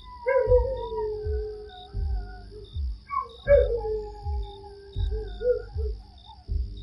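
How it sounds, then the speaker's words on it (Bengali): A dog howls in long wavering cries, twice in a row, against a steady night backdrop of chirping crickets, used as an effect in a spooky narrated story; clear and fairly close, with no talking. "একটা কুকুরের ডাক শোনা মাত্র"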